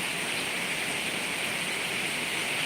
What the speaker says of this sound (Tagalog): Oh, ang lakas ng ulan.